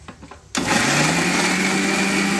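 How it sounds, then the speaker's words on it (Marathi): Kitchen mixer grinder blending pani puri chutney of coriander, ginger and mint, starting abruptly after half a second of quiet and then running as a loud, steady, high whirring drone. "आता मिक्सरला लावू आपण."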